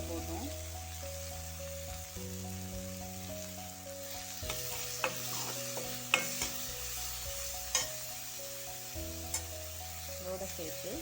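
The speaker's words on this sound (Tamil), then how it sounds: "நல்லா வதக்கட்டும்." Spices and salt sautéing for meal maker kurma, a steady pan sizzle with stirring, occasional sharp spoon scrapes and clinks against the pan, while someone talks over it.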